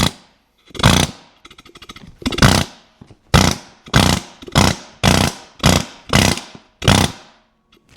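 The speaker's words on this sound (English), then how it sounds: "I'm going to use the air hammer lightly." Loud pneumatic air hammer firing in about nine short bursts on a stuck exhaust manifold bolt, separated by brief pauses, close and harsh.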